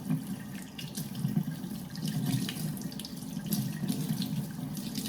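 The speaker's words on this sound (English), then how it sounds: "Let me wet this, which makes it easier to be able to be flexible." Tap water runs steadily into a sink to wet material for a mini terrarium build, a close, continuous splashing rush with no voices.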